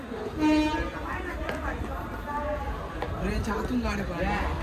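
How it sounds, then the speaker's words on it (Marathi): A passing train sounds its horn in repeated toots over a low rumbling run, with people talking throughout. "ते ट्रेन मधून गाड्या चालल्या"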